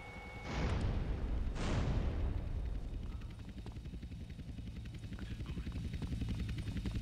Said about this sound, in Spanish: Viene otro helicóptero.